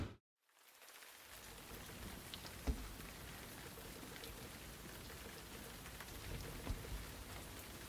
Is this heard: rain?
yes